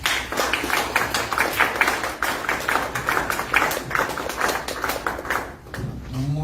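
An audience at a national forum applauds after a speaker is introduced, a sustained patter of many hands clapping at moderate level for several seconds before tapering off at the end.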